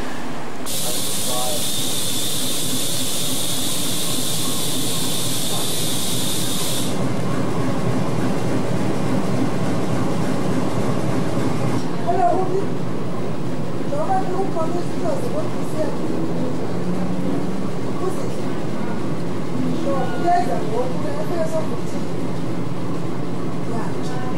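A loud hiss bursts out beside a rumbling train on the Knysna to George line in South Africa, then the low steady rumble continues with people talking nearby.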